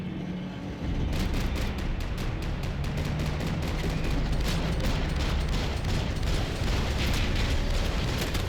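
Dense, sustained gunfire from the video game Max Payne, a loud continuous roar of rapid shots and bursts that starts abruptly after a brief quieter moment and keeps going without pause.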